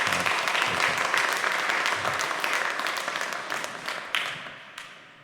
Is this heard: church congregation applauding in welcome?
yes